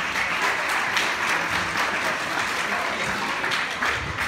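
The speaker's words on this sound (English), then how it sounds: "Sean, give them a round of applause." Applause from the audience at a stage hypnosis show at a campground, with continuous, even clapping at a constant loud level throughout the short stretch.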